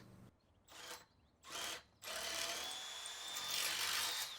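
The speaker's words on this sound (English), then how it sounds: "Drill and bolt the doorpost to the P-clip." Short bursts of a power drill starting and stopping, then a longer continuous whine as the bit bores into a wooden polytunnel doorpost, fairly close.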